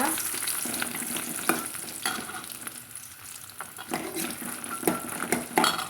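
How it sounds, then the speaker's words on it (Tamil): Red chilies with small shallots fry in a pan, a constant close sizzle broken by spatula scrapes and clinks against the metal every second or so. "இதையும் நல்லா ஓரளவுக்கு வறுத்துட்டுக்கலாங்க இப்போ இது கூட கொஞ்சம் சின்ன வெங்காயம் சேர்த்துக்கலாங்க"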